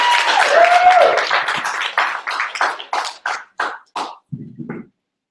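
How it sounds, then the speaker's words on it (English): An audience at a 2015 It Works training event in Boise applauds speaker Holly Tucker: a full wash of clapping that thins into a few separate, fading claps before stopping. "So let's give a round of applause for Ms."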